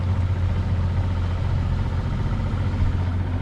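A two-stroke boat engine drones steadily close by, a constant low rumble with no pauses or changes in pitch throughout.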